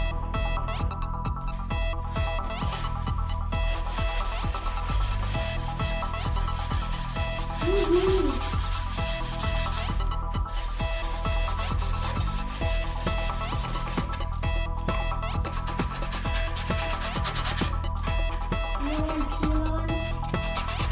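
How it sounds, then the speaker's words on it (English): Steady abrasive rubbing of sandpaper on wooden garage door boards continues throughout, overlaid by a constant musical tone, with no pauses in the scraping. "we're going to do a little bit of sanding and sand all of these smooth"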